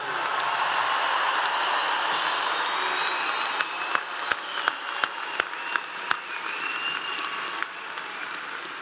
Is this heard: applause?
yes